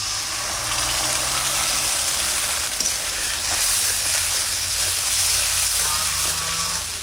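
Poppy seed paste thinned with water sizzles steadily in a pan with turmeric-coated rui fish, a continuous broadband hiss and crackle filling the clip at close range with no talk.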